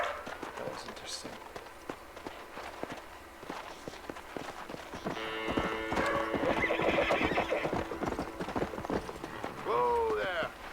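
A horse in the Western video game Red Dead Redemption clip-clops at a run, hooves pounding close and steady, then gives a loud neigh near the end, all under occasional talk.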